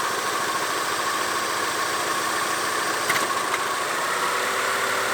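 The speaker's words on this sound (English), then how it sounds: "well the engine's shaking a lot" A car engine idling with a faulty coil pack, a steady rough mid-range drone with constant vibration and a couple of brief knocks partway through, close to the engine.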